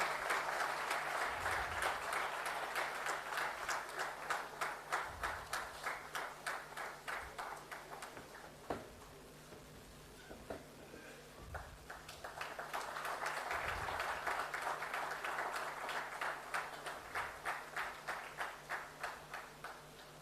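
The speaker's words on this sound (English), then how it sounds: "Let's have a huge round of applause, ladies and gentlemen." An audience at an inaugural-session felicitation ceremony applauds steadily for about twenty seconds: a dense, fairly distant wash of clapping that dips briefly midway, then swells again.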